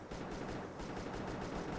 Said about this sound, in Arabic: اضرب ياض اضرب ياض اضرب ياض، آخر طلقة